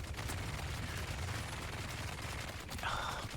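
Rapid, dense gunfire from several heavy enemies in Dune Awakening, a continuous rattling fusillade with overlapping bursts filling the short stretch, loud and close.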